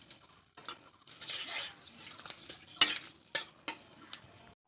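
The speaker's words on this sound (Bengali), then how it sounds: "আর দিয়ে দিলাম এখানে গোটা গরম মশলা।" Whole garam masala spices crackle and sizzle in hot mustard oil with bay leaves. Stirring scrapes run through it, along with a few sharp, louder pops and clicks near the end.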